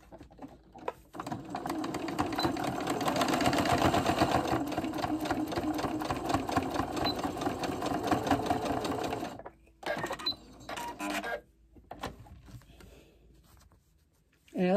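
A sewing machine stitches an in-the-hoop quilted bowl cozy, a fast, steady mechanical chatter running for several seconds before stopping and starting in short bursts, with a voice talking briefly near the end.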